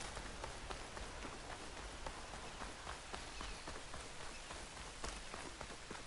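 Steady rain falls in the video game Horizon Forbidden West, a dense, even hiss of drops on surfaces with scattered louder patters, continuous and close for the whole stretch with no talk.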